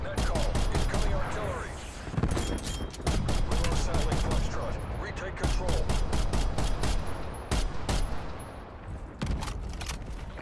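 Dense video game shooter gunfire, with rapid loud bursts and single shots in sharp repeated clusters. A few short quiet gaps break the firing, and faint talk sits underneath it.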